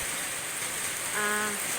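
Heavy rain pours in a steady, dense hiss over a rural spot with coffee plants and grass, a brief tonal hum rising near the end.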